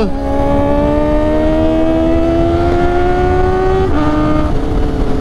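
Kawasaki ZX-4RR motorcycle engine pulling hard through the revs, a loud high-pitched rising scream with a quick gear shift and another rise, steady and close on a winding mountain road.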